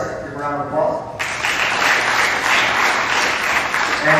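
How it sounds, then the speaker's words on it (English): Audience at a school awards assembly breaks into applause after a brief stretch of speech, the clapping rising quickly and staying loud and dense until the end. "Give a round of applause."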